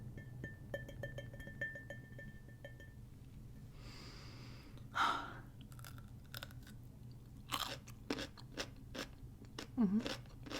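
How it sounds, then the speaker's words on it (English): Someone bites into a Vlasic pickle, giving a few sharp, close crunches and snaps spread through a quiet stretch, with soft breathing and mouth sounds between the bites. "Take a little crunch, a little snap, a little taste"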